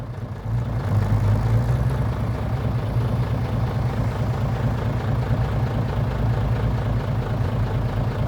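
Tractor engine labors steadily while pushing a vehicle stuck in sand, a loud, continuous low rumble that holds the same drone throughout.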